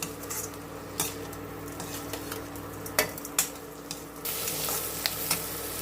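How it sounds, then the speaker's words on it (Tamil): Spices sautéing in a pan with turmeric and salt, a continuous sizzle broken by repeated metal spatula clinks and scrapes against the pan, close and without talk. "நல்லா வதங்கி வரட்டும், பார்க்கலாம்"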